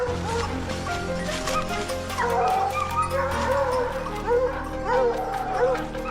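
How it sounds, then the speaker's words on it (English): Hunting dogs bark and yelp continuously while chasing a wild boar through the countryside, a mix of overlapping calls at moderate distance over a steady outdoor background. "The dogs seemed tireless as they chased the boar back in our direction."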